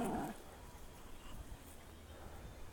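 A dog whimpers and whines at a dog park during a tense leash argument, a brief burst at the start followed by faint low noise.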